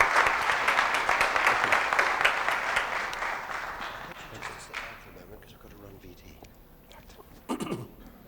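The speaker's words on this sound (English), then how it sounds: "could I please ask you to raise a good applause for Gavin Esler" A dense round of applause from an audience at a book launch welcomes interviewer Gavin Esler, loud and sustained before fading into scattered claps and quiet room noise, with one brief burst near the end.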